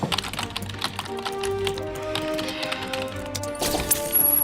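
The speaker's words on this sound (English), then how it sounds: "he's typing so hard the power went out" Rapid, forceful typing on a computer keyboard, a dense run of clicks and taps under sustained musical tones, with a brief louder burst near the end.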